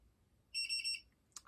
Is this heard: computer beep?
yes